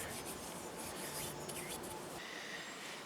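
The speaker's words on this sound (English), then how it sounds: "just get a rag and we'll just wipe off any of the excess" A rag wipes excess finish off a carved wooden spoon, giving a steady soft rubbing and scuffing that runs continuously for the whole stretch, close and fairly quiet with no talk.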